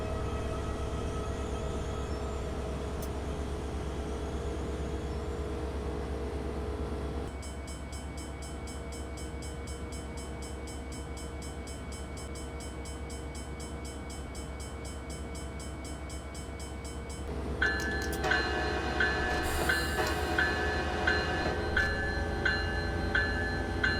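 A simulated North Jersey Coast Line commuter train in Train Simulator 2016 slows under a light brake application. A low steady rumble and drone give way to brighter tonal whines and a run of regular rhythmic clacks near the end.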